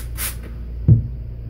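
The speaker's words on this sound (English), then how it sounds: "I spray" A single short spritz of water from a handheld spray bottle onto a shaving lather, a brief close hiss with a soft thump, in an otherwise quiet room.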